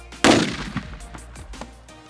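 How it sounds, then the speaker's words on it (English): A 3D-printed rocket booster explodes and destroys its launcher in one loud, sharp blast, followed by about two seconds of fading rumble and scattered debris sounds. "The rocket booster went critical and blew up the launcher."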